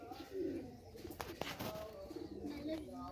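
Racing pigeons being handled and shown give soft coos close by, with rustling and brief clattery handling noises, quiet overall and with faint voices in the background.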